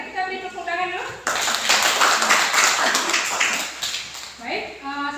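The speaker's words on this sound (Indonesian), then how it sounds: "Mari kita beri tepuk tangan dulu." Classroom applause for a group presentation, a burst of dense clapping from many people lasting a few seconds, with a voice speaking before and after.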